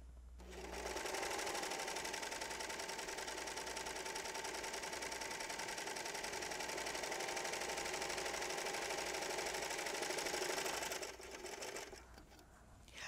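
A Baby Lock serger runs steadily for about ten seconds while sewing a small rolled hem, a loud continuous whirring stitch hum that stops near the end, with no talking over it.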